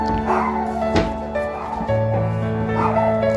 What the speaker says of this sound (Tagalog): Ay, may aso.